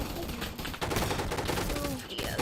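Rapid bursts of Uzi and sniper rifle fire from a gun fight arena video game crackle densely and steadily for a couple of seconds, with brief voice-like sounds mixed into the clatter.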